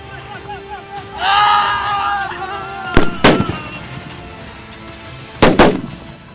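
Bihar Regiment army soldiers firing guns on a training exercise: a few sharp, loud rifle shots in two close pairs, with someone speaking and other voices around.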